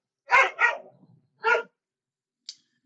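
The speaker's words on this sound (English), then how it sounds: "Dogs being dogs." Dogs barking in a quick burst: two close, loud barks, a pause, a third bark, then a faint short yip at the end, with no talking.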